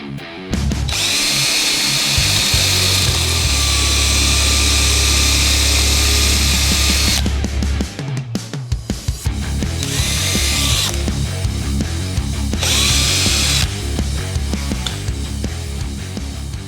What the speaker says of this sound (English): So let's go ahead and drill this.